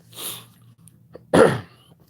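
A single sharp sneeze from a person feeling under the weather, preceded by a faint breathy inhale and a smaller catch, the burst loud and close before quiet returns.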